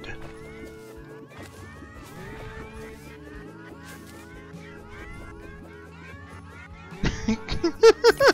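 Cartoonish cat meows pile up in quick succession in the game Terraria, thrown cats from a weapon, layered over game music, then a louder burst of sharp effects near the end.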